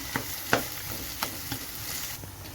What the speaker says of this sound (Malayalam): നമ്മുടെ തക്കാളിയും കൂടി ഒന്ന് വഴന്ന് വരുന്നിടം വരെ നമുക്ക് വെയിറ്റ് ചെയ്യാം